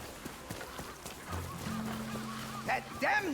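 Bird call in the Ghost of Yotei video game, a few honking, goose-like cries near the end, heard faintly over quiet game ambience and soft tones.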